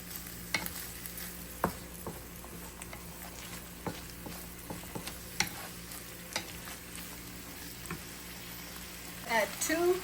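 Spoon or spatula stirring chicken with rice vinegar in a frying pan, a soft sizzle running underneath with scattered scrapes and clinks close by, growing busier near the end.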